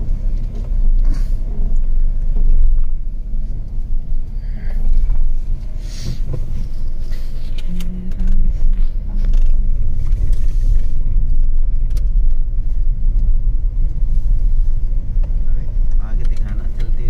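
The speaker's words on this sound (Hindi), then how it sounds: "गाड़ी में तो काफ़ी मज़ा आ गया चलाने में, काफ़ी स्मूथ थी।" A new CNG car on the road gives a steady low engine and road rumble from inside the cabin, continuous throughout, with someone talking over it.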